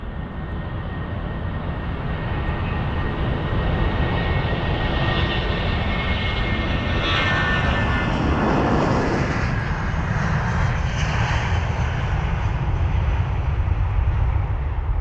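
A jet airliner roars down the runway on takeoff at London Heathrow, a loud, steady, continuous engine rush that swells slightly in the middle and carries on with no talking.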